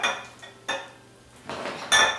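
Utensils clinking against a mixing bowl as melted butter and vanilla go into donut batter, a few separate close clinks and scrapes with quiet gaps between them.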